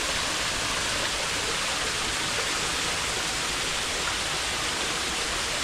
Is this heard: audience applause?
no